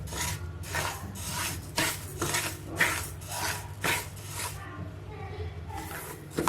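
Foxtail and barnyard millet dry-roast in a pan with rhythmic scraping and rasping strokes of a spatula stirring the grains, about one stroke every second, close and steady.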